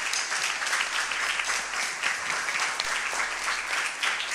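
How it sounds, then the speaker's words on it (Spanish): An audience applauds the conductor at a tribute concert, a steady, moderately distant wash of clapping that holds evenly from start to finish, with no voices above it. "Un aplauso también para nuestro director"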